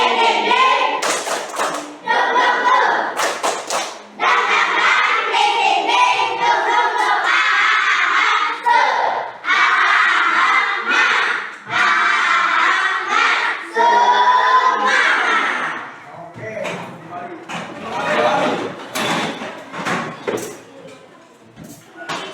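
Schoolchildren in an Indonesian classroom perform the 'tepuk semangat' clapping chant as an ice-breaker, loud rhythmic bursts of claps mixed with shouted voices in close succession, tapering to scattered softer claps and chatter toward the end.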